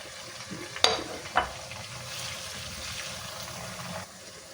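Soft, steady sizzling of julienned ginger frying in hot oil for a tempering, with a couple of light clinks of a utensil early on.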